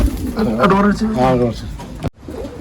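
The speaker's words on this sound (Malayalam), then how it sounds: "ഇതൊരു മെയിൽ പ്രാവ് കേട്ടോ ഇതിലുള്ള." A male pigeon in a loft gives two close, drawn-out rolling coos, resonant and fairly loud, before the sound cuts off abruptly.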